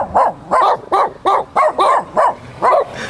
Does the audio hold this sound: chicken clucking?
no